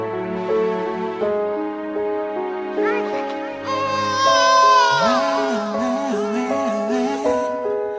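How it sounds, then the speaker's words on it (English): An infant wails in long, rising and falling cries over a wavering tonal backdrop, loud and close for several seconds. "That's the sound of a baby cry."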